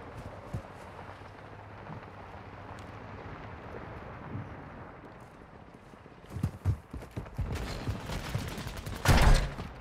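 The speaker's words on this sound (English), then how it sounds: "They're shooting, but not at me." Call of Duty: Warzone 2 gunfire rings out as scattered shots in a match: quiet and distant at first, then a cluster of louder, sharper reports near the end, with one strong close blast.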